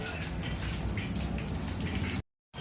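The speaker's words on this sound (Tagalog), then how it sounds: "Kasi ngayon, lakas ng ulan dito." Heavy rain pours down hard and steady in a banana-growing area, a dense, loud hiss of drops on surfaces that cuts off abruptly near the end with a moment of silence.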